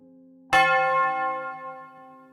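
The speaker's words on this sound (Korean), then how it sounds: "수업이 끝나는 종이 울리자 학생들은 하나둘 집으로 돌아갔고" A school bell marking the end of class, a single clear bright strike followed by a long ringing decay that fades slowly, heard alone.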